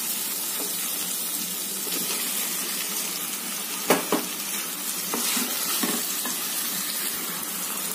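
Chicken pieces sizzle as they are sautéed in a pan with softened onions for a chicken gravy, a constant loud frying crackle with a few sharp clinks from stirring.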